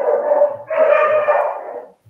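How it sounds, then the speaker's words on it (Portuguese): Dogs bark in a continuous loud burst of overlapping yaps lasting about two seconds, close by, then stop abruptly with no talking. "Olha que legal, cachorrada."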